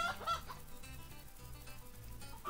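Hens clucking in the farm game Agrar Simulator 2013, a steady run of short chattering calls over a continuous background hum, with no talking.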